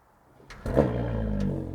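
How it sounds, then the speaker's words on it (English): A Porsche Panamera hybrid V6 starts up and settles into a loud, steady rumbling rev, a low throaty exhaust drone held for over a second. "It's time for the exhaust test."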